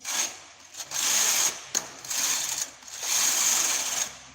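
A misbehaving knitting machine: its carriage rasps back and forth in three loud, close passes with a clicking, ratcheting mechanical sound and brief pauses between strokes, no voices.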